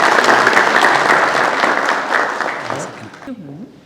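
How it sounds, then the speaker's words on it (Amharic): Applause from a crowd at an Easter program, steady and loud clapping that fades out toward the end as a voice begins to speak. "አሁን አጨብጭቡለት ለሱ።"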